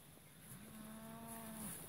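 A single crossbred cow, mostly Friesian, lets out one drawn-out moo of about a second in a farm setting, fairly close but quiet against low background noise.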